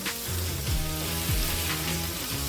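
Steady sizzling of whiting fish frying in a pan, a continuous crackling hiss with low background music tones running underneath.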